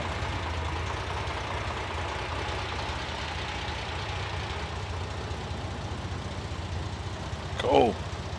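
A carbureted Porsche 911 Carrera 3.0 backdate idles warm at a steady low rumble, fairly quiet and even throughout, with a short louder blip near the end.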